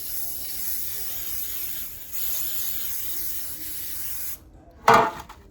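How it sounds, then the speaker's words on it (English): A long, steady hiss of baking spray from an aerosol can onto a cake pan, with a brief pause, then quiet and a short sharp knock at the end. "next thing we're going to do is to take some baking spray"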